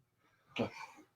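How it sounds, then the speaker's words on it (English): One quick, muffled cough sounds in a quiet room, short and moderately close. "someone had to cough"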